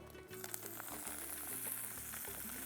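Onions and coriander sizzle and crackle in hot oil, a steady hiss with occasional scraping stirs, fairly soft and without speech.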